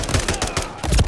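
Single-fire gunshots in the Modern Warfare III campaign crack out in a quick string of sharp, loud bursts, several shots within about a second, with no voices.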